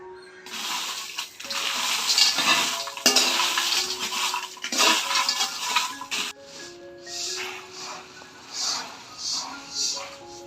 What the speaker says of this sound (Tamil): ரொம்ப வறுக்கக்கூடாது, சும்மா லைட்டாக வெதிப்பிக்கணும் மல்லியையும் மிளகாயையும்